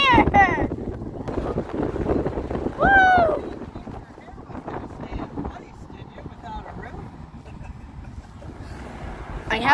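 Wind buffeting and rushing past in an open convertible car on the move, loud and continuous, with a few excited exclamations and voices over it.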